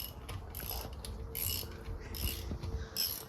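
A ratchet wrench tightens a bolt on the rear differential of a BMW X5 G05 during a differential service, giving close, bursty runs of mechanical clicking with short pauses between strokes and no talk.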